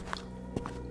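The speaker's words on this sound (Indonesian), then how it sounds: "Apa itu suara langkah kaki?" Footsteps in a spooky bedtime story about a ghost under the bed, two or three soft muffled steps spaced out over a low droning backdrop.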